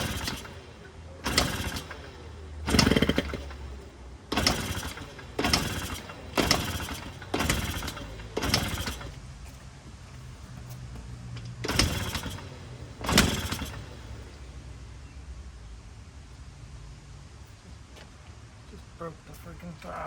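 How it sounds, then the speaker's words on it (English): A 1980 Yamaha Champ 49cc scooter is kick-started repeatedly, with about nine sharp, loud kicks at irregular intervals and the engine never catching. A low mechanical rumble fills the gaps, and speech is present. "Might take a few kicks until the fuel gets up to the carburetor."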